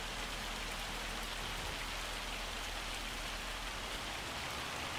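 Heavy rain in the Farming Simulator 25 video game, a dense, steady wash of drops hammering down without pause at a constant loud level for the whole stretch.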